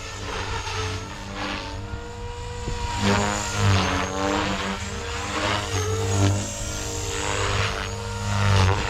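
Horizon Hobby Blade Fusion 360 RC helicopter flying with its rotor at 3250 RPM, a close, continuous high-pitched whine whose pitch and loudness swell and dip as it maneuvers.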